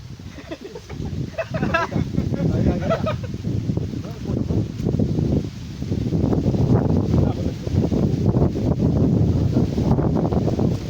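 Steady wind buffeting a microphone outdoors beside a creek, with a low rumbling roar throughout, with faint voices and birds in the background.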